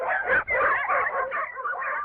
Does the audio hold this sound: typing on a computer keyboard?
no